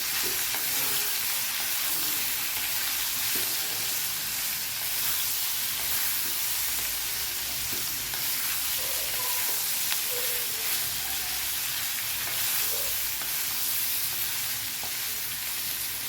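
Potato pieces with salt fry in hot oil in a home kitchen, giving a steady dense sizzle and crackle that runs unbroken throughout, with faint occasional stirring clinks and no talking.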